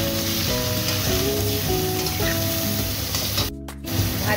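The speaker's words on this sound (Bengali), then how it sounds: "এবার একটু সামান্য হলুদ আর নুন দিয়ে এটা ভেজে নেব" Fish frying in oil with turmeric and salt, a steady close sizzle with a brief pause partway through, no voices.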